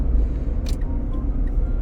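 Smart car driving along, a steady low engine and road rumble heard from inside the cabin, with one brief bright hiss partway through and no voices.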